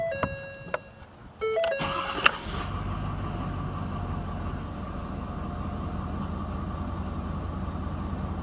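A Ford 6.7L engine idles steadily at about 600 RPM in hot 86-degree weather while low on oil, giving a continuous low drone. A few brief clicks and a sharp tap come just before it settles in.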